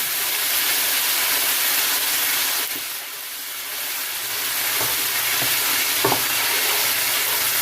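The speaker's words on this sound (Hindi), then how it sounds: "इसकी 2 से 3 मिनट भुनाई करते हैं अच्छे से।" Garlic ginger paste frying in a pan for a yogurt chicken curry, a loud, steady sizzle that dips briefly midway as the paste is stirred, with faint scraping knocks near the end.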